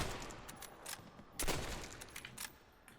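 Gunfire in the Xbox 360 game World at War Zombies comes as a quiet, quick series of sharp shots and bursts, one stronger report in the middle, over faint background noise.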